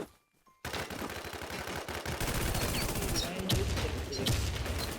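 Video game gunfire from a first-person shooter, dense rapid bursts and fusillades of shots close up, loud and continuous after a brief quiet start.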